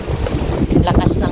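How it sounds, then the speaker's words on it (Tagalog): Strong wind buffeting the microphone outdoors, a loud, rough rumble gusting through a brief moment with the faint edge of a voice in it. "Lakas ng hangin."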